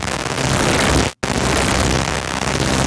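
Harsh, dense distorted electric static synthesized in Vital roars continuously, broken by one brief dropout to silence about a third of the way through, then resumes at full loudness.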